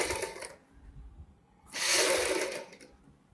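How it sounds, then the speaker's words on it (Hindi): A sewing machine stitches the collar of a Punjabi suit in two short bursts, a quick close whir, a pause, then a longer louder run. "हम एक साइड से सिलाई शुरुआत करेंगे"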